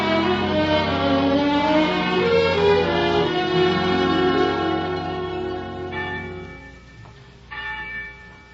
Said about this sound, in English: every day the winds carried you the clanging of the church bells